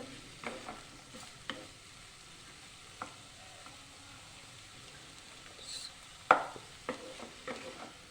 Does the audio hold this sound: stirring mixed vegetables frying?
yes